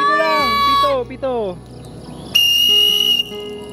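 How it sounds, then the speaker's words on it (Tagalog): A whistle blown to call a bird gives bright, piercing tones, several sliding downward in short bursts, then a long, steady high note, loud and close over a low background drone. "Pito lang!"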